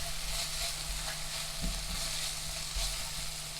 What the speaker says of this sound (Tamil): இப்போ நான் ஒரு 3 பச்சை மிளகா 2 கீரி நான் அதில் சேர்த்துருக்கேன். இதையும் சேர்த்து நல்லா வதக்கிக்கோங்க